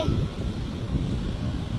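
Wind blows outdoors at sunset, a steady low rushing roar buffeting the microphone without a break, with no talking in the moment.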